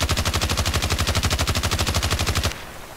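QBB-95 light machine gun fired full-auto from the hip in Battlefield Play4Free, a loud rapid steady burst of about two and a half seconds that stops abruptly, leaving faint room tone.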